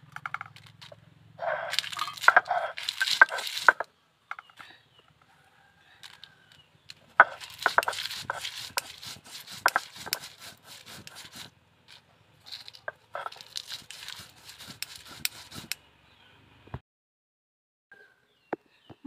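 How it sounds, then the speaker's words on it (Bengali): Dried chilies pounded into a paste on a stone for a papaya and tamarind bharta, heard as bursts of sharp crunching and knocking strikes separated by quiet pauses, close and moderately loud with no talking. "এখন আমি মরিচটাকে বেটে নেব।"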